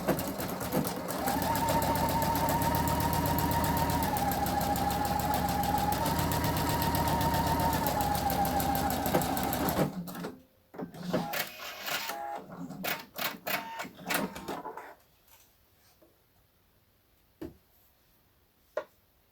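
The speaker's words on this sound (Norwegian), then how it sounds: "Nå skal jeg kaste over, og det gjør jeg med en overlockmaskin" An overlock sewing machine runs continuously and loud for about ten seconds while finishing blouse seams, then stops, followed by scattered clicks and rattles of handling the fabric and a couple of faint knocks.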